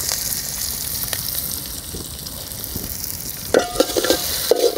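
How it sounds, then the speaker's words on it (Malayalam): Curry leaves and green chillies sizzle loudly in a hot pan as they are stirred, a steady close frying hiss broken near the end by a few scraping stirs, with no voices. "നന്നായി നമുക്കൊന്ന് ഇളക്കിയെടുക്കാം."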